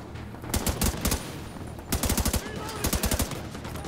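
Machine gun turret fire in The Division 2 rattles out in loud, rapid bursts, several volleys separated by short gaps, with ongoing combat noise behind.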